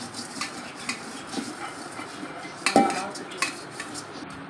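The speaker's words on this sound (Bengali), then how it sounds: "হাঁড়িতে একটু আমি তেল মাখিয়ে নিচ্ছি।" A cooking pot being greased with oil for chicken biryani gives scattered metallic scrapes and clinks, with one sharper clank partway through, against a faint steady background.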